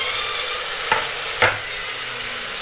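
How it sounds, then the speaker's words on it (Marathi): Tomato and chopped coriander drop into hot spice masala sizzling in oil, a steady frying hiss with two brief soft clatters as the ingredients go in. "तिखट मसाला परतून झाला की लगेच टॅमॅटो टाकायचा आणि कोथिंबीर. आता हे दोन्ही टाकते."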